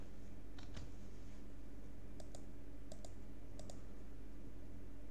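Keys on a computer keyboard are tapped in a few short, faint bursts of clicks over a steady background hum, with no voices.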